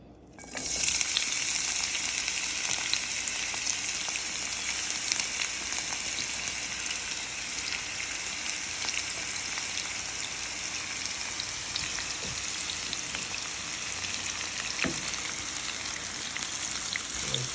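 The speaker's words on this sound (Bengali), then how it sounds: "পাইপেনে আমি কিছু পরিমাণ তেল গরম করে নিলাম এখন এটার মধ্যে পেঁয়াজ দেব" Onions sizzle and fry in hot oil in a pan for a beef liver curry, a steady dense crackling hiss that starts abruptly and continues loud and even throughout, with no talking.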